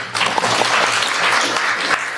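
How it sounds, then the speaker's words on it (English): An audience at an indoor forum applauds warmly and steadily, a close, dense patter of many hands clapping that carries through the whole short stretch. "Round of applause, please."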